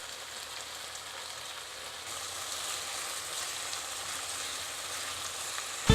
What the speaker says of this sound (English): place the pork onto your pan and cook it front and back